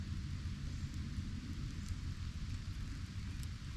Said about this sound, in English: You might be able to hear it in the rain.